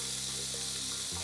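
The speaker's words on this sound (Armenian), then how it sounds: "Մի քանի րոպե սա եւս հիշեցնենք տապակելու համար" Asparagus wrapped in bacon fries in a pan, giving a steady, close hiss and crackle of sizzling fat, with a faint low hum underneath.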